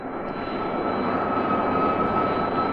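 A steady, loud jet aircraft engine roars continuously near 40,000 feet as it climbs, a constant drone with no voices.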